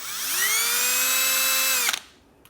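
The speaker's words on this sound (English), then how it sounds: "use your drill with your 5/32 drill bit" A power drill with a 5/32 bit drilling a hole in a vehicle fender for a mud flap whines up to speed, holds a steady high-pitched drone for about two seconds, then stops with a short clatter.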